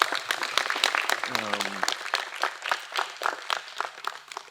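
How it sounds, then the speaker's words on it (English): Outdoor crowd applause at a youth gun violence prevention grant event, moderately loud, with a voice and some tonal chatter mixed in over the clapping. "you can give them a round of applause too"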